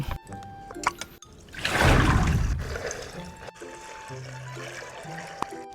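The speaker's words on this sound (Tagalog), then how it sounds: "So ang susunod na natin gagawin ay maglalagay na tayo ng tubig." Water pours onto tube ice in a popsicle maker, a close, splashing and trickling rush that swells for about a second, then settles into softer dribbling and faint clinks.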